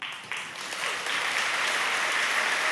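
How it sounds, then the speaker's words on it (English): Audience applause at a Sunday church talk, a steady wash of many hands clapping that swells in the first second and then holds loud and even, with no voices over it. "thank you so much for clapping"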